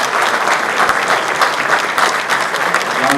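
Loud, sustained applause from an audience for a panel at a reception event, a dense wash of clapping hands that continues steadily from start to end.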